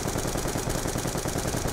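A light machine gun fires in Black Ops 2 Zombies, a loud, continuous stream of rapid automatic shots that fills the whole moment, with no one talking.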